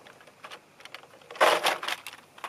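Plastic LEGO pieces and technic rods are pulled apart from the LEGO Ideas 21323 Grand Piano set, giving a series of faint clicks and rattles with a louder cluster of clattering in the middle.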